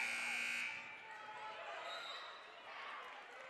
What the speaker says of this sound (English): And that 15-second inadvertent buzzer, which always seems to go off when you don't want it to, went off.